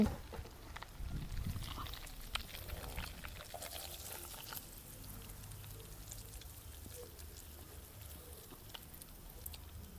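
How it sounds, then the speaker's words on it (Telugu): Cooking oil poured into a village-style chicken pickle, a soft, steady pouring wash that runs continuously at low volume with no talk. "రుచికి సరిపడినంత నూనె పోసుకోండి"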